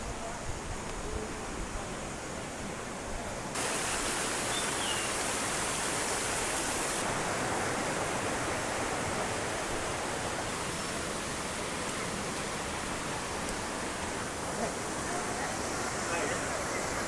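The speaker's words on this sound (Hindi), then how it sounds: "और छोटा सा वाटरफॉल है ये, और ये नेचुरल वाटरफॉल है, ऊपर से पहाड़ों का पानी आता है।" Small natural waterfall in the Tamhini Ghat hills near Pune, water pouring down from the slopes, heard as a steady broadband rush that grows louder a few seconds in and holds close and constant.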